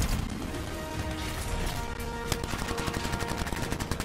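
Rapid gunfire from a newly picked-up gun in the video game Anthem, a dense stream of close, loud shots with sharp repeated transients building over a few seconds amid game action.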